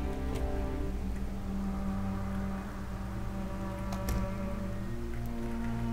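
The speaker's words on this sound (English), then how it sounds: "I wish it would stop raining." Steady rain pours down in the video game Project Zomboid, a constant dense hiss of drops with faint ticking accents, continuous and unbroken throughout with no talking.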